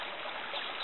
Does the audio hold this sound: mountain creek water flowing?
yes